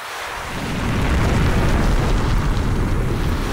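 A thunder and lightning storm at sea in the video game Eagle Island rumbles up as a loud, sustained roar of rolling thunder and heavy noise, swelling within the first second and holding steady.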